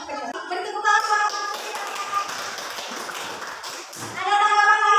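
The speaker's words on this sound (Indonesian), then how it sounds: "Beri tepuk tangan." Students in a classroom clap for a group's answer, a dense patter of hand claps spread across several seconds, mixed with voices and speech nearby.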